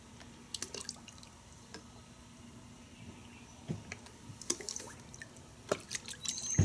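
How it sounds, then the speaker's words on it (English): Car soap being poured into a bucket of water, heard as scattered drips and small liquid splashes with light clicks, fairly faint and intermittent, with a few sharper drops near the end and no talking. "I'm going to put 3 ounces of the car soap in this bucket"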